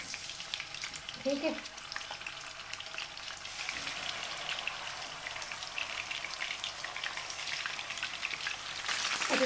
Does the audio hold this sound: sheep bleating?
no